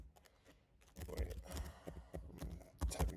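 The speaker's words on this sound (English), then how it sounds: "I'm typing Java right now." Typing on a computer keyboard while coding, quick bursts of close, soft key clicks and taps, somewhat faint under a quiet room background.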